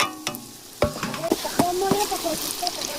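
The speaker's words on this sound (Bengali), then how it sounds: "এই যে তেলের উপরে বুঝবুঝি উঠতেছে মানে হয়ে গেছে গরম আমি এটা থালারটা সব ঢেলে দেবো" Sesame-sweet ingredients tipped from a plate into hot bubbling oil in a village kitchen: a burst of frying sizzle breaks out after a quiet start, with scraping stirs and utensil clinks running over steady crackle.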